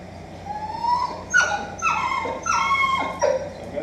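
A dog whimpers and yips in a series of rising, pitchy cries, close and fairly loud, repeating several times in quick succession.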